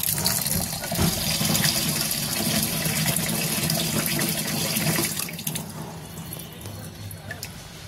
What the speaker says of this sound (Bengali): চালটাকে আমি 2 থেকে 3 বার ভালো করে ধুয়ে নেব।